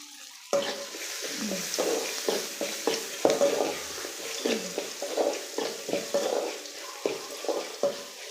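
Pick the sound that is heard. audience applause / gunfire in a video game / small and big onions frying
small and big onions frying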